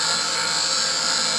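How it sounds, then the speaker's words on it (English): A bench grinder grinding off a metal lip on a vehicle axle disconnect assembly, a loud, steady, harsh high-pitched whine and hiss that carries throughout without pause. "I just grind off this lip right here on my grinder"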